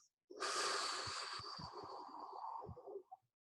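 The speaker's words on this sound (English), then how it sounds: "let's all take a deep breath and breathe out" A single deep breath drawn in and then let out, close and fairly loud, lasting about three seconds with a rushing, slightly snorting texture and no talk.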